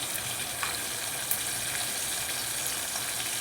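Cumin, mustard seeds and turmeric sizzle steadily in very hot oil in a home kitchen pan, a dense, even hiss with a few faint pops and crackles throughout.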